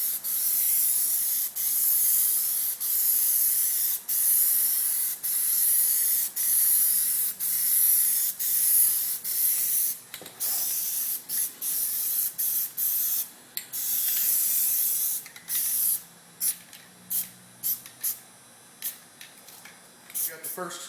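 Rubber Plasti Dip coating is sprayed from an aerosol can in a body and paint shop, a bright steady hiss in repeated bursts that turn into shorter, choppier puffs toward the end.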